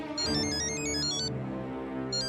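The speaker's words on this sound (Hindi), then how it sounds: "सोडी का फोन है? उठाइए ना, उठाइए।" A telephone ringtone rings in a domestic scene, a repeating electronic melody of bright pulsed tones over a steady background, pausing briefly before resuming near the end; no one speaks.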